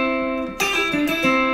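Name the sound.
electric guitar pull-off with backward finger roll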